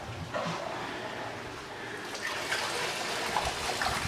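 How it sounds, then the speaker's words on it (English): A blade water feature trickles softly on a garden patio, a faint steady splash of falling water with light background sounds and no speech. "water features."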